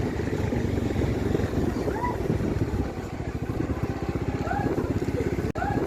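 A motorcycle engine idles and putters close by as it is ridden in and parked, a steady rumble with faint voices in the background.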